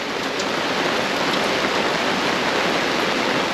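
Heavy rain falling steadily around a moored boat on a French waterway, a dense, even hiss close by with no pauses and no voices.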